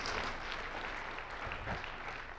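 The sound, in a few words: congregation applause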